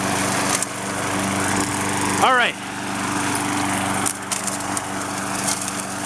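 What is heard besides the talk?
Craftsman 6.75hp lawnmower engine running while mowing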